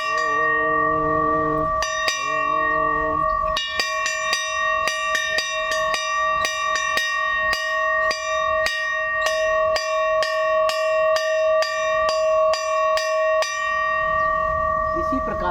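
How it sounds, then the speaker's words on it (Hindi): A temple bell at a peaceful shrine with a Buddha statue rings repeatedly in a steady, clanging rhythm, each strike leaving a bright ringing tone, loud and close, with a voice faintly underneath. "उनको अपने ओर ध्यान आकर्षित करने के लिए आप इस घंटी का प्रयोग कर सकते हैं"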